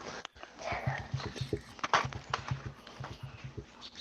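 A dog whines softly on and off, its thin cries mixed with rhythmic low thumps and background noise, fairly quiet overall.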